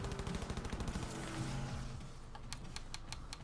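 Rapid bursts of gunfire in the video game Cyberpunk 2077, a fast rattling volley up front followed by a few sharper spaced shots, fairly quiet overall.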